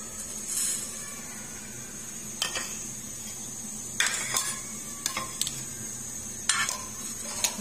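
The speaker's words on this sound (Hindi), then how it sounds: "हल्का सा काली मिर्चों को सेक लेंगे हम। के बाद डालेंगे हम इसमें साबुत धनिया" Black peppercorns and whole coriander seeds dry-roast in a pan under a faint steady sizzle, with several sharp clinks of a spoon stirring against the metal at irregular intervals.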